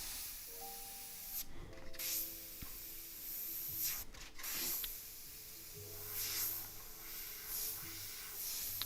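An airbrush hisses steadily as it sprays graffiti lettering in paint onto a T-shirt, with brief pauses in the spray and faint low background tones throughout.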